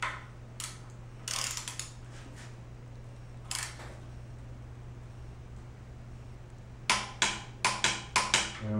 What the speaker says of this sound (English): putting it back on the torque wrench to tighten it